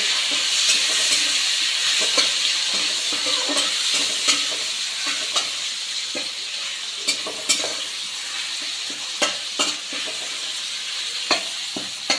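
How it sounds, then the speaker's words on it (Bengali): Chopped tomatoes with bay leaves sizzle steadily in a hot frying pan, a continuous close hiss broken by sharp clicks and scrapes as a utensil stirs them, with no voices. "টমেটো কুচি দিয়ে দিলাম। এবার একটু ফ্রাই করব।"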